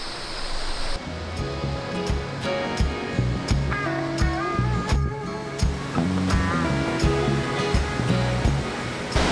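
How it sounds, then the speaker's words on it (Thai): A waterfall in a forest valley at Phipun, Nakhon Si Thammarat, rushing steadily as a broad wash of water noise, with scattered clicks and faint bird-like chirps over the top. "นี้ก็กำลังเดินเข้าไปในน้ำตกนะบรรยากาศร่มรื่นมากเลยที่นี่"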